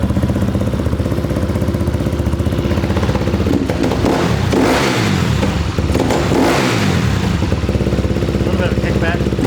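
A 2008 KTM 250 XCFW dirt bike engine in a shop, loud and close, blipped up through two sharp revs that fall back to a steady, rattly idle, with people talking faintly over it.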